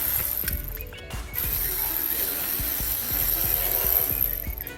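A hand ratchet clicks in quick, even runs while backing out the three lower steering column screws on a 2014 Ford F150, close and clear with short pauses between strokes and no talking.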